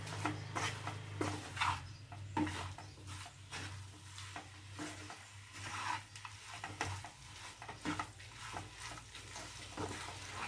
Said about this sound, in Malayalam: ഇത് നമുക്കൊന്ന് ഇട്ട് നന്നായിട്ട് ഇളക്കി കൊടുക്കാം